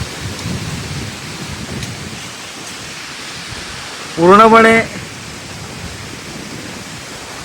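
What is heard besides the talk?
strong gusty wind of sudden storm in Konkan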